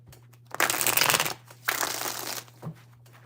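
Tarot cards shuffled by hand in a few quick riffling bursts, close and fairly quiet over a low steady hum.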